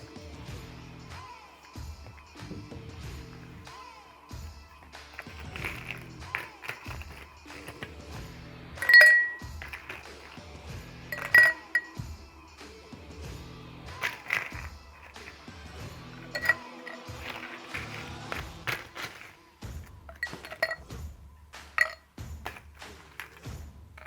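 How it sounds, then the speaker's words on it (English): Ice cubes clink and rattle against a highball glass as it is chilled for a mocktail, with scattered light knocks and a few sharp bright pings over about twenty seconds, close and clear with no talking. "First, we need to chill the glass first using ice."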